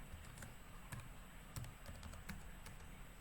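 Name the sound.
typing an ssh command on a computer keyboard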